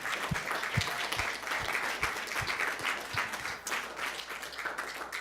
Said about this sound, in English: can we get a quick round of applause for all the chefs here competing?